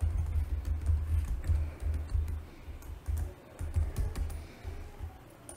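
Close, irregular clacking of keys on a computer keyboard as a variable name is typed in UiPath RPA software, in quick bursts separated by short pauses.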